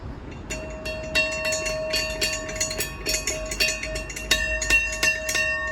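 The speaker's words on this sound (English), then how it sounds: "That's the bell." The ship's bell aboard RRS Discovery is rung in a rapid, irregular series of bright metallic clangs, each leaving a ringing tone that overlaps the next, close and fairly loud.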